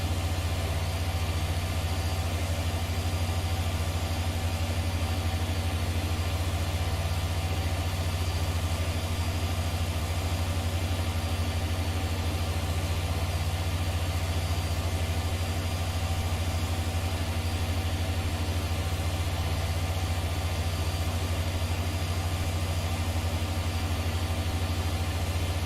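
Tractor engine in a farming video game, running as a steady low, droning rumble that holds unchanged for the whole stretch, with no talking.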